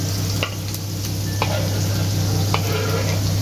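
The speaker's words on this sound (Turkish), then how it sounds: "Kızarmakta olan soğanlarımızın üzerine sarımsaklarımızı ekleyebiliriz." Onions and garlic sizzle steadily in a hot pan, with a few sharp scrapes and taps as they're stirred, close up.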